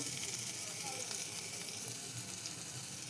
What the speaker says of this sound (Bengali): তেল গরম হয়ে গেছে, রসুনটা দিয়ে দেব।